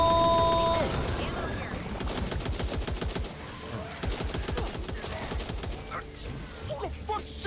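Rapid gunfire from the zombie shooter game Back 4 Blood, loud bursts of close automatic shots crackling steadily over most of the span, with speech mixed in.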